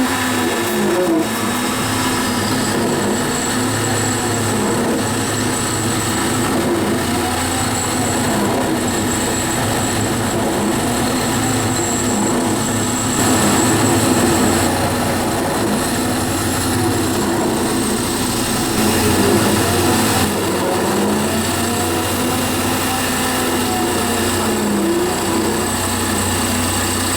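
A G0602 metal lathe turning while cutting a bearing pocket into a bearing block, a loud continuous motor whine with shifting tonal hum and cutting noise throughout.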